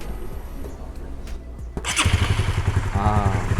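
A Honda RS150 motorcycle fitted with a fresh Uma Racing iridium spark plug cranks briefly with a starter whir, then fires up into a loud, close, throbbing idle.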